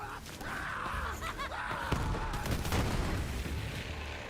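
Hellwalker shotgun with Terror recoil fired in Borderlands game combat, a dense run of loud gunshots and booming blasts packed with game effects across the whole stretch, with no pause between them.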